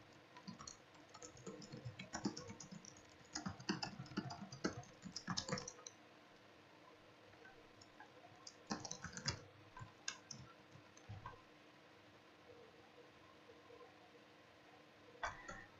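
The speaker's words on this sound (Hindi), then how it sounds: "अब ये जो टाइपिंग हो रही है ये उसी सेटिंग में हो रही है" A computer keyboard clatters with quick bursts of typing in MS Word, the key clicks close and fairly quiet, broken by a pause of near silence before another short flurry.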